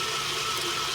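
Electric mixer whipping cream cheese and a stick of Kerrygold butter for keto fat bombs, a continuous close whirring drone, steady and loud with no pauses or voices.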